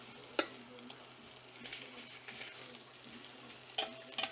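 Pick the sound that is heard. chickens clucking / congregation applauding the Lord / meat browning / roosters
meat browning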